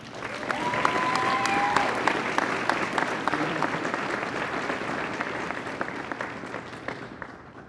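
Applause from the audience at a campus awards ceremony builds quickly and holds as a steady, moderately loud patter of many hands, thinning slightly toward the end.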